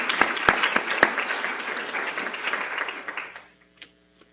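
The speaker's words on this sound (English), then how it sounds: "So if we could give them a brief round of applause for their work." Audience applause at an NIH behavioral and social sciences honors ceremony, a brief burst of clapping from a seated crowd with a few sharp near claps, fading out after about three seconds.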